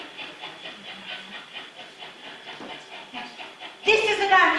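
A train carriage rumbles with a rhythmic clickety-clack of wheels on rails, steady and moderately loud, ending in a sudden louder burst of noise.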